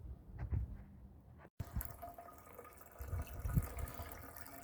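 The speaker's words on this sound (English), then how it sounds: "this house has so much pressure, water pressure in the back in the hose" Water from a high-pressure garden hose at a house's backyard raised garden beds runs in an uneven, splashy stream, with a brief cut near the start and louder gushing surges later.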